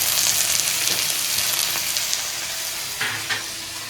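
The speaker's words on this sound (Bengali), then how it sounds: "দিয়ে ভালো করে ফ্রাই করে নিচ্ছি আস্তে আস্তে করে" Soaked kasuri methi fries in oil in a pan, making a close, steady sizzle with a few soft stirring scrapes.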